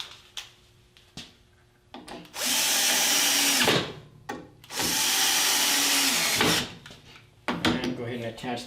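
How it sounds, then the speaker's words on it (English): A power drill pre-drills holes and drives screws into a thin wooden sacrificial fence on a sled, two sustained loud whirring bursts with short taps and handling clatter between them. "I typically pre-drill a hole and then use 2 screws to attach that sacrificial fence."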